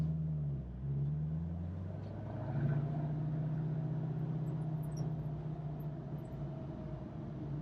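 A 1968 Mustang Fastback's engine idles low and steady, then a deeper, louder surge comes as the manual car pulls away, the rumble holding near and constant throughout.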